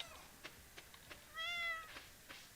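A cartoonish cat meow from the farming video game Stardew Valley, a single faint tonal call set against soft game ambience and a few light clicks.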